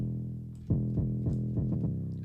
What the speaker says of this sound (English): the only one that I really focus on with this plugin is the distortion.